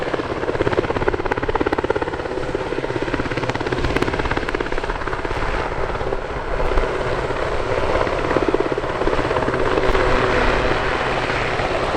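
A Westland Sea King helicopter flies at an air festival, its rotor thumping loudly and steadily with a continuous engine whine over the whole stretch, nearby and unbroken.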